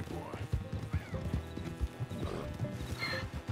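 Horse hooves clip-clopping in Red Dead Redemption 2, steady rhythmic hoof falls close by over a dense bed of game sound and music, with a brief whinny-like tone.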